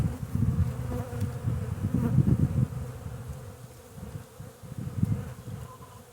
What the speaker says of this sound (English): We're just going to shake the bees off of it.